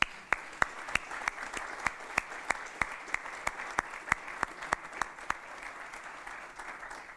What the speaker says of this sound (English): certainly deserves every bit of that applause and more